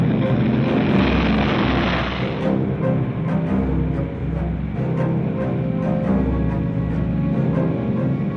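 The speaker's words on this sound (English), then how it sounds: "B-29 takeoffs are a tough sweat." A B-29 bomber roars through its takeoff as a loud, steady wall of multiple propeller engines, sustained throughout with a deep droning hum.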